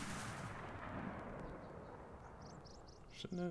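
Sharp gunfire bursts from a Kingdom Hearts video game cutscene crack over a dense, noisy backdrop, with a few quick shots near the end; no talking.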